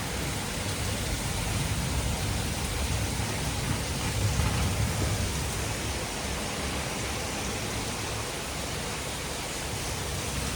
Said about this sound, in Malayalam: നല്ല മഴയുണ്ട് ഗൈസ്.